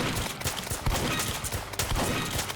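Dense, continuous shotgun fire in a Roblox game, with many overlapping shots blasting close and loud with no pause.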